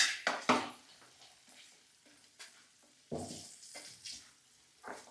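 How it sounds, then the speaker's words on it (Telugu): Garlic, curry leaves and spices tempering in hot oil for a spicy eggplant chutney, a steady close sizzle broken by several sharp stirring clatters of a spoon against the pan. "తాలింపుకి దినుసులు, ఎల్లిపాయలు, కరివేపాకు అన్నీ"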